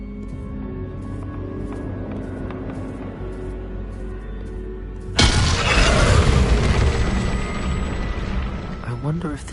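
A Bombarda spell explosion in the Hogwarts Legacy video game, set on a chess board: a sudden loud boom midway through that rumbles and crackles for several seconds after a quieter stretch with faint mechanical tones.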